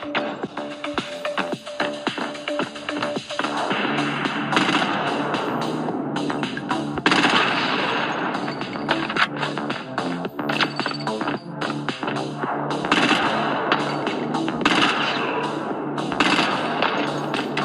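Gunfire from a sniper shooter video game: a loud, dense run of shots and thuds over about eighteen seconds, with rapid bursts that sound like automatic fire mixed with heavier single blasts and no talk.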